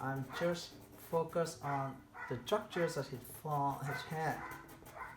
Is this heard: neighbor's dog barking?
yes